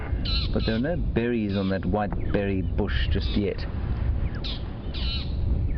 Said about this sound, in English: Now that squawking noise you can hear is some magpie shrikes who are alarm calling.